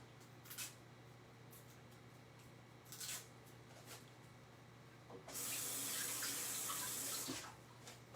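A kitchen tap runs for about two seconds as two Granny Smith apples are rinsed, a soft steady splash following a few faint handling sounds in a quiet room.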